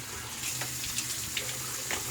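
Tap water runs steadily into a sink for a cold rinse after a wet shave, a continuous close splashing hiss with no voices.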